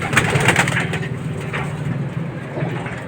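Racing pigeons coo in a low, continuous, overlapping murmur, close and fairly loud, with some rustling.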